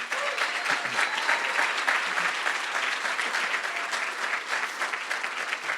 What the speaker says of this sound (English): If we could just applaud for them.